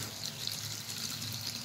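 Water is poured over sliced potatoes in a bowl for soaking, a soft, steady trickle heard quietly and close with no talk.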